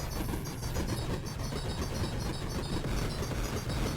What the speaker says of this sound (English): That's one space train.